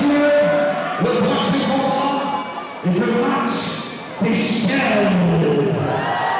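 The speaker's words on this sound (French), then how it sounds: "Et la foule qui scande Blondin, incroyable." Wrestling crowd in an arena chanting the name Blondin, loud rhythmic repeated chants from many voices with a commentator talking over them.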